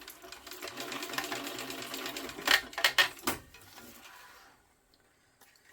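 A sewing machine stitches a seam on a crossbody bag, a quiet close whirring run punctuated by a few sharp mechanical clacks before the motor stops and the room goes nearly silent.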